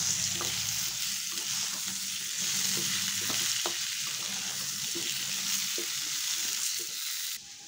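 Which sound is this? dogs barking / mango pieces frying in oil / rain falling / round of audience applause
mango pieces frying in oil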